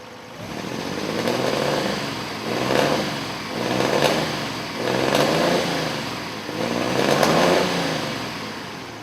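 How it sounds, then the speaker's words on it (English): A 1932 MG F-Type Magna engine revs in repeated surges, about five rising and falling pulses of a buzzing, rasping note at moderate volume. "This is an F-Type MG built in 1932"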